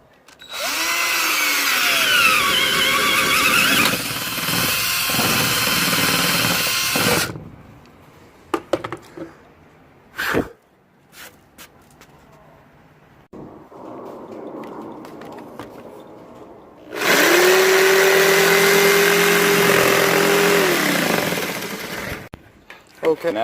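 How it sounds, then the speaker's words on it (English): A power jigsaw cuts a hole through a workpiece for a homemade shoe drying rack, two loud buzzing bursts of sawing at the start and end separated by quieter handling knocks and shuffling in between. "So now I'm going to use my jigsaw to cut out the hole."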